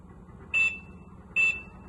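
Two short, loud electronic beeps from the joystick button on a Rubicon DX08, DX11 or DX14 unit, each lasting about a fifth of a second and spaced roughly a second apart, over a faint hum.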